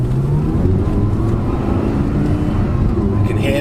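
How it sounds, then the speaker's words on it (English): A Lamborghini V10 engine in a car with carbon ceramic brakes whirs and builds revs, a steady loud drone with a rising tone, close by, with some talk over it. "You can hear the V10 whirring up,"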